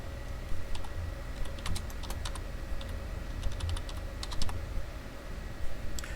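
Rapid keystrokes clatter on a computer keyboard while text is entered into a PowerPoint slide, irregular clusters of close, crisp clicks over a quiet room hum.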